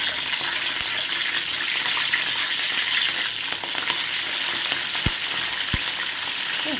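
Dried red chillies, curry leaves and garlic frying in hot oil for tomato thokku: a steady, close, dense sizzle with a couple of sharp clicks near the end, and no voices.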